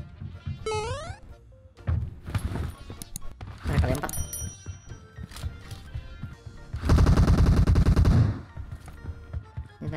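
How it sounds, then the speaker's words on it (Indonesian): Gunfire from shooting at enemies in PUBG Mobile, loud bursts of automatic fire with a sustained rapid volley near the end, mixed with game sounds and players talking. "Nembak musuhnya"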